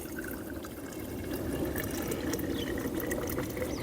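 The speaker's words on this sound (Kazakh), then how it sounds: "Суды құямыз." Water pours steadily from a container into a vessel holding about 13–15 grams of garden fertilizer for feeding garlic, a continuous close splashing fill with no talk.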